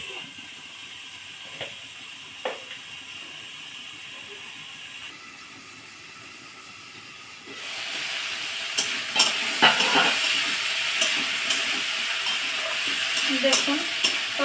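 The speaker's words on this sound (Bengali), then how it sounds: "দেখুন তরকারিটা সুন্দর ভাজা ভাজা হয়ে যাচ্ছে।" Mixed vegetable labra curry sizzling in a pan, a constant soft frying hiss that swells louder partway through, with spatula scrapes and stirring knocks.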